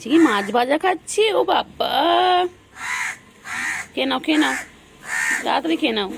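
Crows cawing near a house, harsh calls breaking in during pauses while someone speaks loudly and repeatedly close to the microphone.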